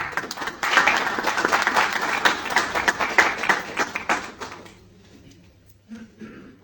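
Big crowd applause at a human rights day gathering, dense clapping sustained for several seconds before tapering off into faint scattered claps.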